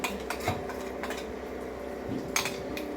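Idli batter being scooped from a bowl into a pressure cooker container, giving soft scraping and a few light metallic clinks of spoon against steel, quiet and close, with no talking.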